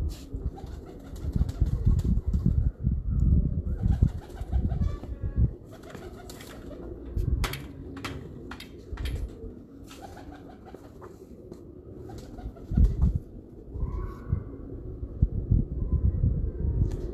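Pigeons kept by a fancier near Islamabad coo softly and repeatedly. Their low, throaty calls pulse close by, with faint rustling and a few sharp clicks around them and no talk.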